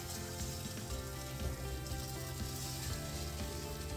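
Tortang talong, an eggplant omelette, sizzles steadily in a frying pan, a continuous crackling hiss with no pauses or voices over it.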